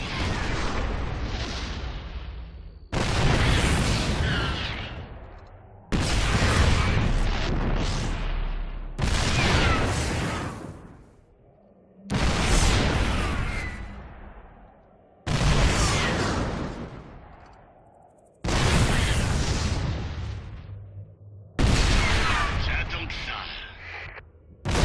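Siege tanks shelling Protoss cannons in StarCraft 2, heavy artillery booms landing roughly every three seconds, each loud blast decaying into rumble, repeated about eight times.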